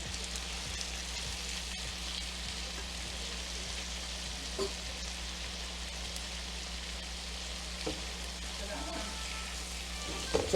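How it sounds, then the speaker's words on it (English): Baby spinach cooks in a pan with a soft, steady sizzle and faint crackle, heard close and low throughout, with a few small clinks near the end. "We're going to cook this for a couple minutes"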